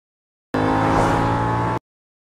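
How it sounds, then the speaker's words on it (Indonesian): A car accelerating in a movie car chase on a city road, a loud sustained engine roar that starts abruptly and cuts off after about a second and a half. "Lino dan Cici pun langsung tancap gas untuk berburu"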